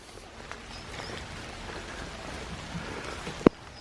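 Steady soft rain patters continuously on a garden path, a gentle hiss of drops, with a sharp knock near the end.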